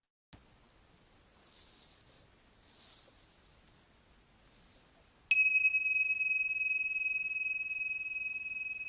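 A meditation bell is struck once to open a spring midday meditation session. A single bright strike rings out clearly and sustains for several seconds after a short stretch of faint room sounds.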